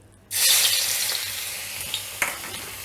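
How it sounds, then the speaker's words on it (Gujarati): Garlic hitting hot oil in a pan, a sudden loud sizzle after a brief quiet moment, settling into steady frying with a couple of faint clinks near the end. "તેલ આપણું ગરમ થઈ ગયું છે હવે એમાં આપણે પહેલા લસણ એડ કરશું"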